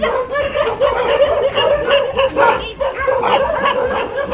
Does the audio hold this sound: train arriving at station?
no